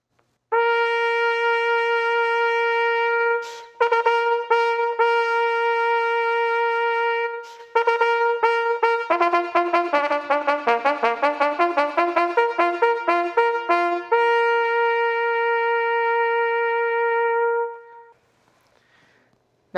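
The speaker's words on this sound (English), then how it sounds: "To demonstrate the sound of the trumpet, I'm going to play another piece of music from Beethoven's opera Fidelio." A solo trumpet plays a passage from Beethoven's opera Fidelio, clear and close, opening with long held notes and moving into quicker, repeated phrases before a final sustained tone and silence.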